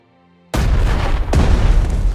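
Silence breaks into a loud booming blast as a unit attacks in the Strategic Mind: Fight for Freedom strategy game, followed by a second sharp impact and a rumbling tail.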